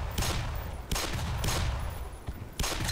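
Gunfire in the video game Black Mesa, several sharp gunshots in quick succession with reverberating tails, moderately loud against steady background noise.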